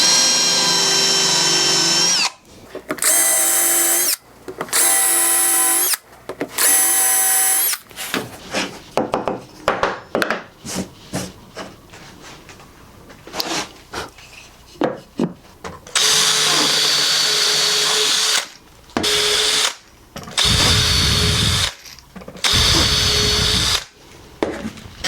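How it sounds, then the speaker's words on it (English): A power drill fitted with a countersink bit cuts into screw holes in birch plywood while a bird box is being built. The bursts are loud and close, whining up and then stopping, separated by short quiet gaps, and no one speaks. "So first what I'll do is countersink these holes."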